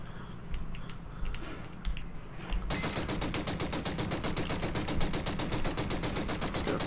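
Rapid, evenly spaced gunshots fire in a long automatic burst in the video game Killzone: Shadow Fall. The shots are loud and sharp and follow a quieter stretch of faint game noise.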